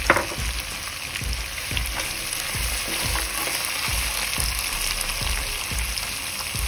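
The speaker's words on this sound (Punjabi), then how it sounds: "ਹੁਣ ਆਪਾਂ ਪਾ ਦਿੰਦੇ ਹਾਂ ਕੱਟਿਆ ਹੋਇਆ ਪਿਆਜ਼ ਜਿਹੜਾ ਹੈ।" Chopped onions fry in hot oil in a pan for Punjabi chicken biryani, with a constant close sizzle broken by regular scraping stir strokes roughly every half second.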